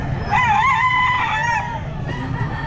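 A 10-month-old Raptor Sweater gamefowl rooster gives one loud, close crow at a pet market, a long wavering call over faint background clucking and crowd murmur.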